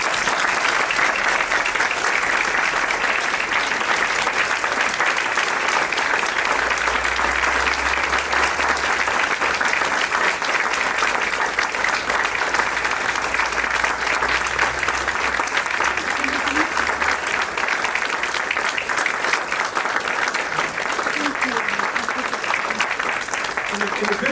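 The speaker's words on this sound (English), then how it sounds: "Can you just give her just a round of applause?" Coworkers give a long, loud round of applause for a woman retiring after 30 years with her company, continuous dense clapping close by, with faint voices mixed in beneath it.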